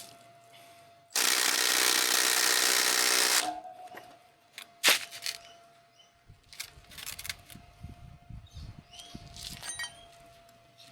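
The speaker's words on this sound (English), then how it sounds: "So I also bought a impact driver." Impact driver on a tight axle bolt of an Ultra Bee electric motorbike: one loud, sustained burst of about two seconds, then a sharp knock and scattered clattering handling sounds under a faint steady hum.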